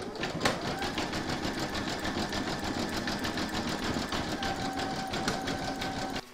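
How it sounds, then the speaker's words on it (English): An embroidery sewing machine stitching a satin stitch along the joins and edge of a large square scalloped placemat in a hoop, giving a fast steady mechanical whir with regular needle clatter, close and continuous. "You can now pop your hoop back into your machine and stitch round number 11, and that's going to do all a satin stitch along these joins"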